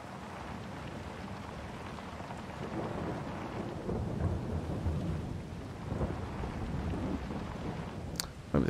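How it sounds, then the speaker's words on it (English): Rainstorm with rolling thunder in the farming video game Farming Simulator 22, a steady heavy rain hiss under low rumbling thunder that swells midway, with no talking. "Maybe the rain doesn't last too long."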